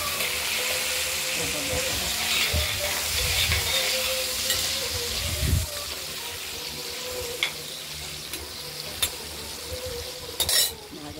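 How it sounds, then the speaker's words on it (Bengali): Potatoes frying in oil with a little salt and turmeric, giving a steady close sizzle with occasional stirring scrapes and utensil taps throughout. "হালকা হলুদ করে ভেজে নেবো। আলুগুলোকে একটু সময় লাগবে।"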